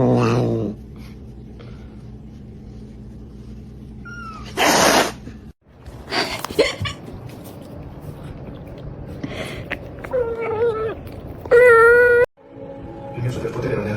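A cat growls, yowls and meows in bursts alongside a dog, with high wavering caterwauls near the end, loud and close, separated by quieter stretches and some human voices.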